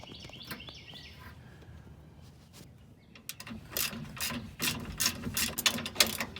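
A hand ratchet clicks on the rear strut bolts of a Toyota Tacoma, starting faint and then turning into louder, rapid, irregular clicking bursts close to the microphone over a quiet background.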